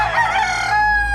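A rooster crows loudly and close by, one sustained, rising call filling the moment, while chickens cluck around it on a small backyard farm at feeding time.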